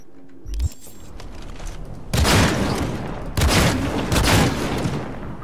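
Buria gun in Cyberpunk 2077 unloading in loud, sustained bursts of gunfire, with a brief thump at the start and then two dense, roaring stretches of rapid shots filling most of the clip.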